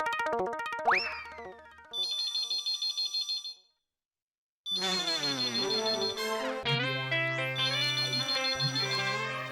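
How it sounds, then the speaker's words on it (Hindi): A telephone ringing in a shop in a Taarak Mehta Ka Ooltah Chashmah comedy scene: a loud electronic ringtone of repeating bright beeping tones and a boing-like sweep, stopping for a moment before starting again. "फोन उठाऊं कि नहीं उठाऊं?"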